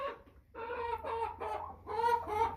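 American Bresse chickens cluck in a steady run of short, nasal calls, several birds close by over a low hum.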